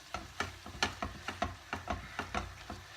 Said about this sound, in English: Let's quickly blast the heat just to boil off any excess residue in there